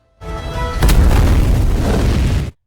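A missile bursts in the air in a Shah Rukh Khan action film, a loud, sudden boom followed by a long, heavy rumbling roar that cuts off abruptly.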